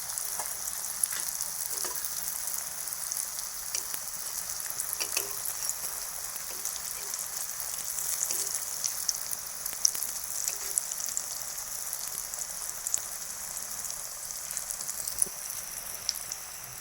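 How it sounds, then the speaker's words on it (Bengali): Chana dal dhoka, fried lentil cakes, crackle and hiss steadily in hot oil. A bright, even sizzle holds for the whole stretch, with scattered pops and no talking. "এই যে ভেজে নিচ্ছি আমি।"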